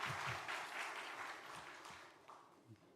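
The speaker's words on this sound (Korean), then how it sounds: "목사님 나오실 때 박수로 환영하겠습니다" Applause from a gathered church congregation welcoming a pastor, fairly faint, swelling briefly then tapering off toward the end.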